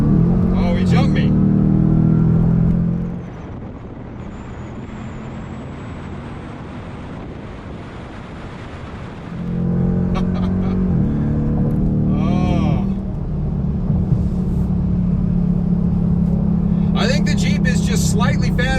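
A Jeep SRT and a Dodge Challenger R/T Hemi accelerate hard in a race, heard from inside the cabin as a loud engine roar that drops as the gears shift, then surges again, with wind noise and occasional talking.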